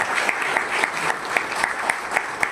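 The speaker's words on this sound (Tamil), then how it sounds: "முகப்பு நல்லா இருந்தா கைதட்டுங்க சார்." An audience at a Tamil business confederation event claps for a building's entrance design, a fairly modest round of clapping with a few sharper individual claps standing out over a steady patter.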